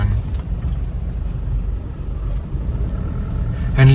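A 2006 Isuzu Panther LM Smart diesel engine drones steadily inside the cabin while driving, a constant low rumble that continues without a break.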